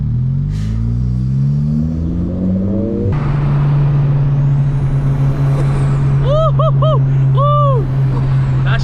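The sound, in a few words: tuned turbocharged Honda Civic engine revving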